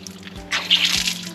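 Water from a kitchen tap in Chilliwack, British Columbia, splashing and dripping into a sink, with a couple of low knocks and a brighter gush midway, close and fairly loud, no talk.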